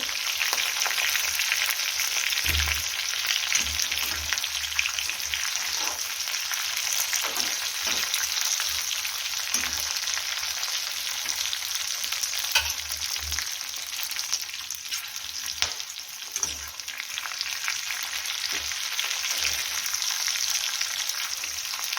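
Stuffed green chilies fry in oil in a pan, giving a continuous bright sizzle held up close, with soft periodic thumps and scrapes as they are turned, and nobody speaking.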